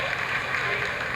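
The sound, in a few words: applause in mission control during Chandrayaan-3 landing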